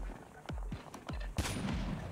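Sniper rifle fire in Call of Duty Mobile: three or four sharp, separate shots about a quarter to half second apart, each with a booming low thump, followed by a louder crack and noisy tail.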